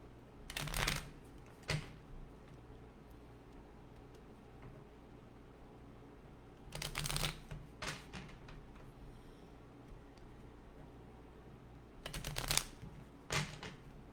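Cards shuffled for a live tarot reading, three separate bursts of close, crisp riffling spaced several seconds apart over a quiet room background.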